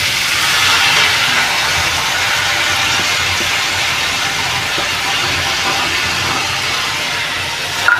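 Basmati rice frying with cloves and cinnamon in a pan for sweet kesari bhaat, a loud, even, continuous hiss that stays steady throughout and ends with a brief knock.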